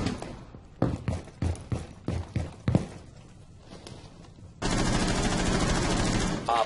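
Gunfire in the tactical shooter Rainbow Six Siege: a string of sharp, separate shots rings out, then a loud continuous burst of automatic fire takes over and runs to the end.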